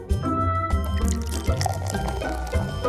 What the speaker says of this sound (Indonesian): Tuang sodanya ke gelas.